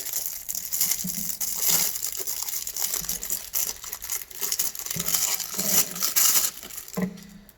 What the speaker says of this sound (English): So it comes in a plastic bag